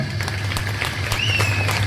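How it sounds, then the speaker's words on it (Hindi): An audience claps warmly for a performer after a family skit about Lord Ganesh. The applause is steady and continuous, heard close at moderate level, with a faint whistle-like tone partway through. "हार्दिक के लिए जोरदार तालियां"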